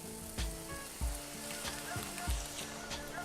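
Tomato sauce with a splash of dry white wine sizzles steadily in a pan over raised heat, with a few soft knocks from stirring.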